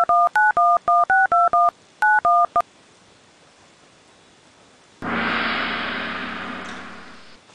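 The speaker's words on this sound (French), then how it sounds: "nous allons lui passer un petit coup de fil pour savoir où il en est" A run of crisp telephone keypad DTMF tones dials a number in short, evenly spaced beeps, pauses briefly, then gives way to a steady hissing line noise, with no voices.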